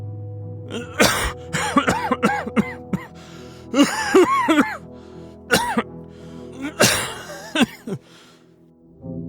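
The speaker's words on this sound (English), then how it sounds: "How long have you had that cough?" A man coughs repeatedly in irregular fits, harsh bursts that rise and fade, with throat clearing and strained breaths between them, fairly close and alone without talk.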